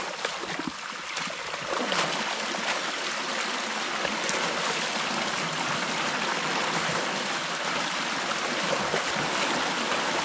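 Creek water rushes through a freshly breached beaver dam in a steady, loud gushing flow close by.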